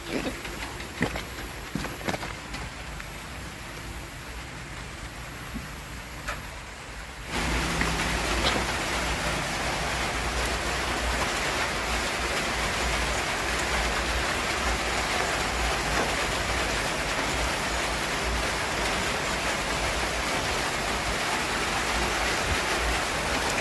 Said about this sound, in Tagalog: dahil napakalakas ng ulan